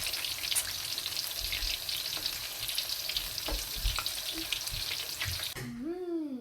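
Onion pakora (bhaji) pieces frying in hot oil give a steady, loud sizzle with crackling throughout, and a brief tonal sweep is heard near the end.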